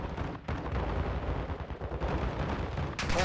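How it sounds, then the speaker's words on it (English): Dense gunfire in Call of Duty DMZ, with several sharp shots and bursts packed close together, loud and near, ending in a brighter burst. "Oh, I'm being sniped"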